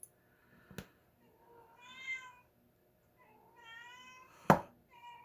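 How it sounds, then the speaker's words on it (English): A cat meows twice indoors, close and fairly clear, with sharp knocks of lock parts and small handling clicks in between and no talking. "I got a mouthy cat going on here."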